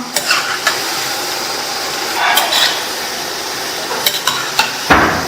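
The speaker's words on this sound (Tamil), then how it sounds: "1 நிமிஷம் கழிச்சு இந்த மாதிரி பரட்டி பரட்டி விட்டுக்கலாம்." Shredded cabbage fries loudly in a pan on a medium flame, with a steady close sizzle and occasional scraping stirs of a spatula until it crisps.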